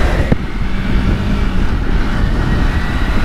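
A Kawasaki Versys X300 motorcycle cruising along a country road through Seymour, Victoria, with a steady loud engine drone mixed with heavy rushing wind across the microphone, unbroken throughout.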